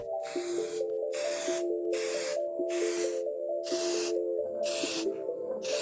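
Steady aerosol hiss of Plasti Dip rubber coating sprayed in repeated bursts, about six sprays with brief pauses between, close and fairly loud, over a constant tonal drone.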